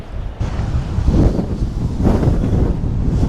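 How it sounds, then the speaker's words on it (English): Ocean waves surging and splashing over rocks on a windy coast in Iceland, with heavy wind buffeting the microphone and rolling surges swelling and receding, loud and close. "I see the waves splashing up over the rocks"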